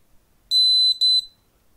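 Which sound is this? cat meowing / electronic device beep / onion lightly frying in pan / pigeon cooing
electronic device beep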